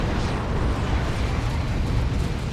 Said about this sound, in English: There's a rocket run.